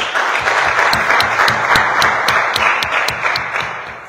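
A church congregation claps together during a New Year's Eve service, a loud, dense wash of applause with a rhythmic unison beat that fades slightly toward the end.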